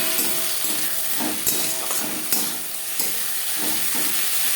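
Onions fry in a pan with ginger paste and green chilli paste for a pabda fish curry with vegetables, giving a loud, steady close sizzle with occasional stirring scrapes and no voices.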